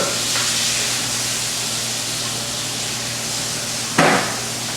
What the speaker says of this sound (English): Pardon the background noise, we're frying up some asparagus.